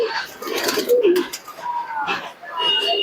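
Male pigeon cooing among loft birds, a few soft low coos amid chirps and background noise, with someone talking nearby over the calls.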